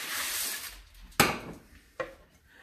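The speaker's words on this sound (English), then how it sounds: "And then I'll move my bowl over here" Bowl moved across a kitchen counter, a couple of sharp knocks and clunks, close and fairly quiet, after a brief rustle of foil.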